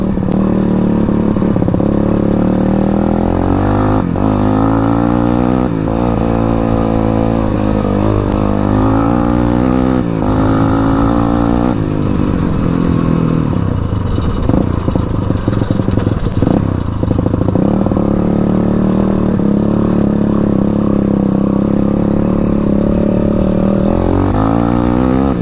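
A two-wheeled Honda 200x being ridden over bumpy ground, its engine droning steadily and close throughout with shifting revs, plus rattling clatter from the bouncing ride.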